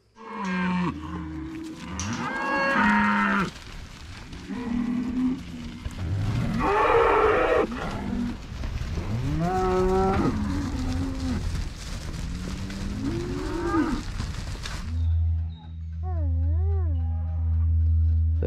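Several cows moo repeatedly, long drawn-out calls overlapping at varying distances, loud and close at times, with a pause before fainter wavering lows.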